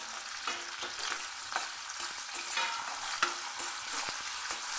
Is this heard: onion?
yes